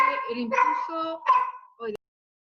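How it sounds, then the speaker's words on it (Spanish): Several house dogs bark and yip in short, uneven bursts close to the microphone, overlapping with a voice on an online video call. "disculpen mis perros"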